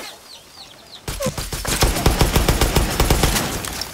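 Dense, rapid clucking and squawking from a large flock of chickens attacking in Far Cry 6, bursting in suddenly after a few faint chirps and continuing as loud, rattling bursts close by, with no talk.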